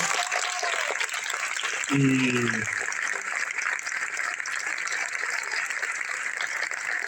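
Sustained, dense clapping from a graduation audience at a primary school ceremony fills the whole stretch at steady loudness, with a short tonal voice-like sound rising briefly near the middle.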